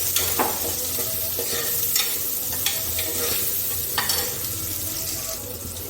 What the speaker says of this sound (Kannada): ಒಗ್ಗರಣೆ ಸ್ವಲ್ಪ ಹಾಕಿ